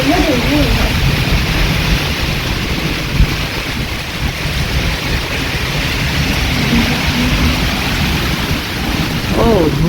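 A heavy downpour roars steadily and densely throughout, with brief voices near the start and end.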